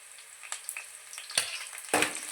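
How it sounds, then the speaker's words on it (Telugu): Chicken frying in a pan with curry leaves and green chillies, a steady close sizzle with scattered crackles and two louder spitting bursts. "బాగా వేపుకోవాలి బ్రౌన్ కలర్ వచ్చినట్టు."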